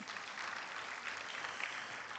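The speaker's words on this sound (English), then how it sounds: "Please, let's give him a round of applause." Audience applause rises at a public forum as the Manila Times chairman and CEO is introduced, a fairly faint, even wash of clapping from a crowd lasting a couple of seconds.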